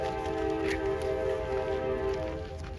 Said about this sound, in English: Just heard the Grand Canyon train.